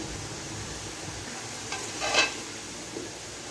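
Mutton karahi being stirred and dished out of a pan, with soft scraping and a faint sizzle, a brief louder clink of utensil on metal midway, fairly quiet and close.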